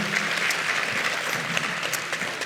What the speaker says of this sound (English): A round of applause for Sherry.